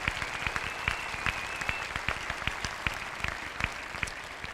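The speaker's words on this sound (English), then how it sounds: "Let's give these students another round of applause" Audience applause fills a graduation ceremony at Penfield High School's commencement, a steady mid-level wash of many hands clapping with dense, evenly spread claps throughout and no voices over it.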